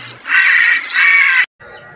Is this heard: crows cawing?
yes